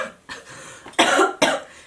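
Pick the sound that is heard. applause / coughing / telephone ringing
coughing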